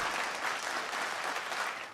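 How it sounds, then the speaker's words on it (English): A studio audience at a late-night live show applauds a guest with steady, dense clapping, moderately loud and fairly even before tapering off at the end. "Can we get maybe a little bit of applause and something for SELBY the Cheeky Pre-Teen?"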